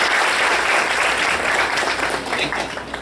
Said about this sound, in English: Can everyone give a big round of applause?